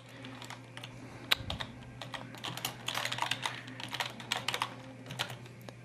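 A caption being typed quickly on a computer keyboard: rapid, uneven bursts of crisp key clicks, close and clear, with brief pauses between runs of strokes over a low steady hum.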